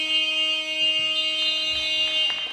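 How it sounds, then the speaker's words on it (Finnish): A futsal arena buzzer sounds for half-time in a Finnish league match, one loud sustained electronic drone holding steady for a couple of seconds over faint crowd noise before cutting off. "Ja näin soi summeri."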